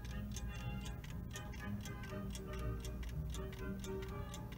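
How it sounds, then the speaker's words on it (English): A German-made 1930s Heller desk clock ticks faintly and evenly, a steady run of soft clicks over background music. "Let's see if you can hear it tick."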